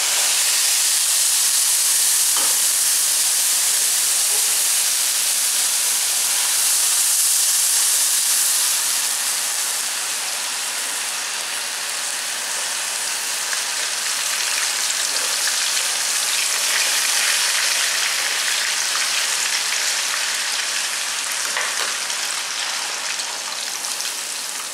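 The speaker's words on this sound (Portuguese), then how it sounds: "Essa panela, ela é muito forte, então ela borbulha, sai tudo pra fora." A pot of food on a stove bubbles hard and boils over, giving a steady, loud hiss and sizzle with scattered pops and no voices.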